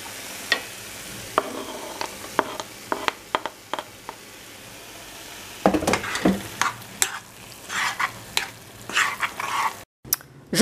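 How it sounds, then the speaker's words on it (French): Water comes to a boil in a saucepan as a spoon scrapes browned bits from the bottom and diced tomato cubes go in, giving intermittent scraping, clinks and soft sizzling bursts, busier in the second half. "Je rajoute de l'eau dans ma casserole et je porte à ébullition, puis je gratte les sucs."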